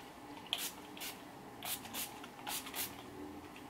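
Face mist sprayed onto cheeks before highlighter, a series of short, faint hissing spritzes in uneven bursts, close to the mic and quiet overall.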